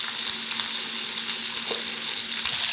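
Chicken browns in hot oil in an enameled cast iron braiser, giving a continuous, even frying sizzle with faint stirring touches, close and moderately loud, without speech.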